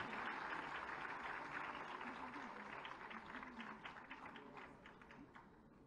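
Audience applause rises at a women's achievement awards event in Lucknow as a Padma Shri honoree is called up, a fairly quiet patter of many hands that thins and fades toward the end, with voices faintly underneath.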